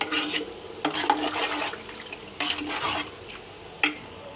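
A pot of chicken curry for biryani cooking, with a spoon stirring and scraping several times over a soft, steady sizzle and bubbling.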